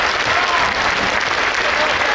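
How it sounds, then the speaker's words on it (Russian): Theatre audience applauding at the close of a comedy show, a dense, steady wash of clapping from a large hall, loud and continuous throughout. "Под аплодисменты зала мы попрощаемся."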